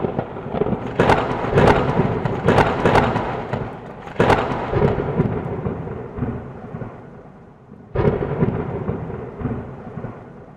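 Several heavy thunder cracks boom in bursts, each rolling off before the next, with a final sharp clap near the end.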